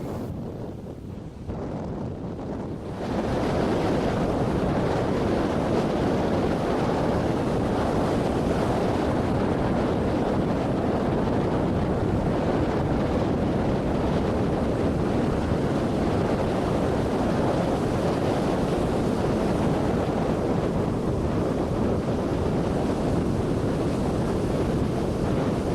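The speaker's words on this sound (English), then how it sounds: "And it was windy." Strong wind roars across the microphone at Guana Beach, St. Maarten, with crashing surf beneath, a dense continuous buffeting that swells in after a quieter opening and stays loud throughout.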